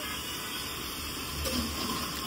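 Rain falls steadily as an even, soft hiss that holds without a break, with one faint knock near the end and nobody speaking.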